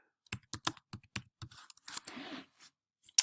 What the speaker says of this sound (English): we are able to type in our answer